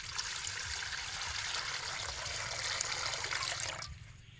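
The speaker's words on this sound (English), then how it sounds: "First we add water." Water poured steadily into a cooking pot for bitter melon, a continuous close splashing rush that stops abruptly near the end.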